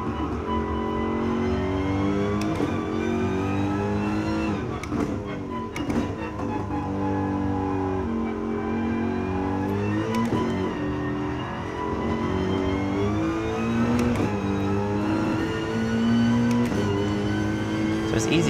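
Race car lapping the Nürburgring, its engine droning and rising in pitch through gear changes, steady and close under a driver talking throughout.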